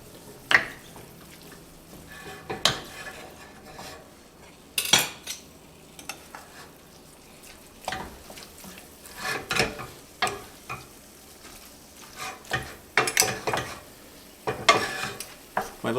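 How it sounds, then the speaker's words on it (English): Food seasoned with cayenne pepper browning in a pan as a utensil stirs and scrapes it, a low steady sizzle broken by repeated clinks and scraping strokes, close by. "So cayenne pepper. All right, so I'm just gonna brown this up, mix it up."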